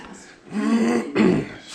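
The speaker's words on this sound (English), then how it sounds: "Excuse me for clearing my throat." A man clears his throat with a rough, rasping rumble, two short efforts in a row, close by.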